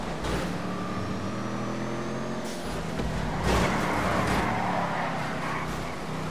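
A car in GTA V Online drives with a steady engine drone and road rumble, a brief surge of revving midway, and no talking over it.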